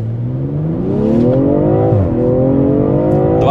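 A BMW M340i xDrive G20 in Sport Plus mode accelerates hard, its engine note climbing steadily, dipping briefly at a gear change, then rising again, loud and close with no talking.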